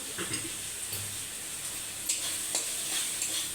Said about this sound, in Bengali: মশলাটা আমার তেল দিয়ে শুরু করে দিয়েছে